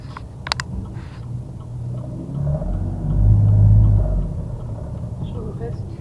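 A car pulls away during a driving lesson on narrow roads in Belgium, its engine rumble swelling to a loud surge midway before easing back to a steady drone, with an instructor's voice over it.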